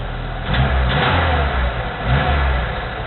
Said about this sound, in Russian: Э, ну, машина на газолине.